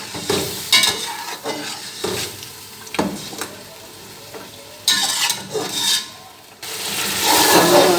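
Mutton with yogurt sizzling and frying in a pot for pulao while being stirred, with repeated scraping strokes and steady crackle throughout and a louder, brighter sizzle near the end.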